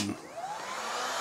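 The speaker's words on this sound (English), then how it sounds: "Heat gun." A heat gun drawing power from a 12 V 100 Ah LiFePO4 battery blows with a steady, close, loud hiss of rushing air, starting abruptly and holding level for just over a second with no talk.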